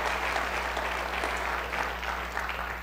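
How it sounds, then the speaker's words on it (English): Steady applause from a church family-service audience as someone leaves the stage, sustained dense clapping filling the room. "give her one last round of applause as she heads off the stage"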